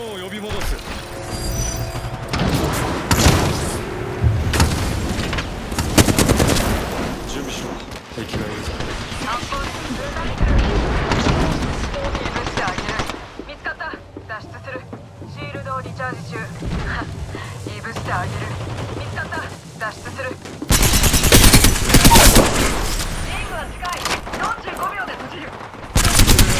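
Rapid gunfire rings out in an Apex Legends battle, with dense, loud bursts and volleys that come and go amid other game sounds and voices, then a sharp, loud stretch of shooting near the end.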